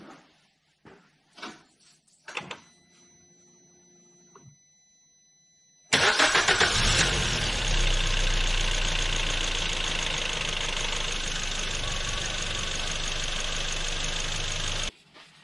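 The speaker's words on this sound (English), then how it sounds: "And now we can start the car" A Vauxhall Agila B 1.2 is started after an oil service: a few clicks and a chime come first, then the engine cranks and catches, and it idles loudly and steadily for about nine seconds before cutting off.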